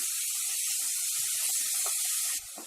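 Chopped onions frying in a pan for a simple tomato curry, a bright steady hiss of sizzling oil close up with faint crackles, briefly dropping in level near the end.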